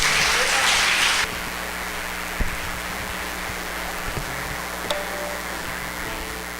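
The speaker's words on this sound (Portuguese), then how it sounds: "Aplauda ao Senhor, amém." A church congregation breaks into a brief burst of loud applause that cuts off after about a second, leaving quiet room hum and a few faint knocks.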